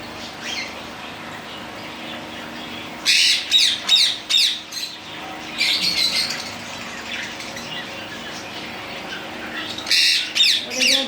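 A pet pair of birds kept at home gives loud, harsh squawking calls in several short bursts separated by quieter stretches, with some wing flapping, close to the listener.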